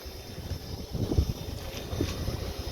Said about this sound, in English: It's really windy. It was not this bad like 2 seconds ago.